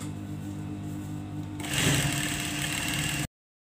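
A sewing machine stitches lines on a gandoura, running at a low steady hum before speeding up into a louder, continuous rapid whir close by, then stopping abruptly.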